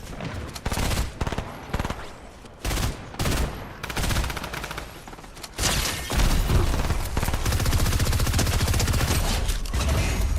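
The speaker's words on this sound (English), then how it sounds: "That's that same guy bursting bullets." Gunfire bursts in Fortnite Reload, a loud string of rapid shots and short volleys that give way to dense, continuous firing, up close.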